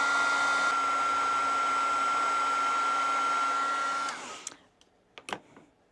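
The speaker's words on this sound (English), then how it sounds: "I don't usually work with the dryer when I'm doing this technique." A hair dryer blows with a loud, steady whirring drone while drying paint, then switches off and winds down, followed by a few faint clicks and taps.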